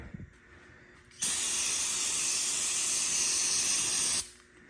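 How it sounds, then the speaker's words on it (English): A loud aerosol brake cleaner spray hisses continuously for about three seconds onto a damaged RZR side-by-side's parts, starting and stopping abruptly, close by. "spray them off one more time with the brake clean"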